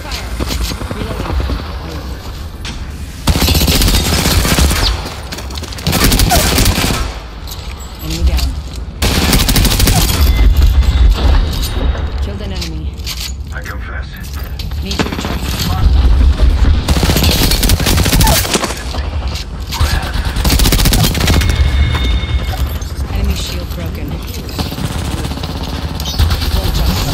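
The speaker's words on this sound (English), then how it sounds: "Opening fire." Loud bursts of automatic weapon fire in Apex Legends S17, repeated volleys in several clusters of rapid shots, with brief pauses between them and game voice callouts faintly underneath.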